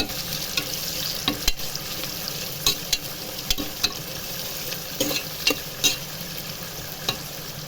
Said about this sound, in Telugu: ఇది గోల్డెన్ కలర్లో వచ్చేదాకా వేయించుకున్నాం ఫ్రెండ్స్